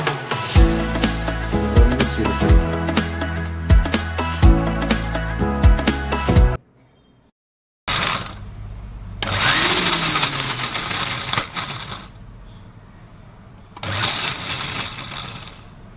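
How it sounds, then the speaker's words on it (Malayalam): A kitchen mixer grinder whirs loudly in bursts as it grinds green chili, ginger, garlic and curry leaves in a jar, with several pulses separated by brief pauses. "ഒരു മിക്സർ ജാറിലേക്ക് പിന്നെ നമ്മുടെ പച്ചമുളക് ഇഞ്ചി വെളുത്തുള്ളി കുറച്ച് കറിവേപ്പില"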